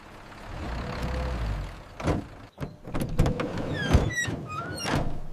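Back doors of a white work van opening as two men unload landscaping equipment in front of a small house, a few thunks and clatters against a low traffic-like background hum.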